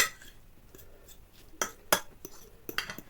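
Soft scraping and several sharp clinks of a utensil against a bowl, irregular and close, with quiet stretches in between.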